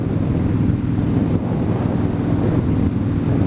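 A motorcycle rides at night on the outskirts of San Antonio, Texas, and heavy wind buffets the microphone in a loud, steady low roar that masks almost everything else.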